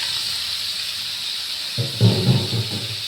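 Potato, onion, tomato and crab tipped into a hot oiled pan, a steady hiss under rising bursts of louder sizzling and bubbling after the food lands, close and alone.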